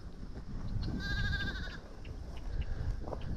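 Goats and sheep on a farm let out a clear, wavering bleat from a short distance, with a few fainter calls after it over low outdoor rumble.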